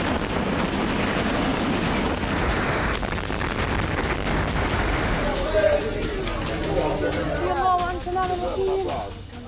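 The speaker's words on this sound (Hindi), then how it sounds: "गाजा में फिर इजरायली बमबारी।" Israeli bombardment in Gaza, with dense, continuous booms and crackling gunfire forming a loud, rumbling wash, with faint voices and shouting rising toward the end.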